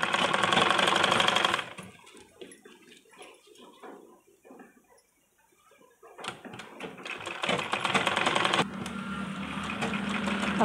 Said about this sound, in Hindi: लेस चौड़ा है, इसमें दोनों तरफ सिलाई लगाएंगे।